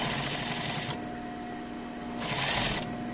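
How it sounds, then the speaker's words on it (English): A sewing machine fitted with a zipper foot stitches an invisible zipper into a lined skirt, running in two close, rapid whirring bursts separated by a short pause. "When you sew your invisible zipper, you have to sew it open."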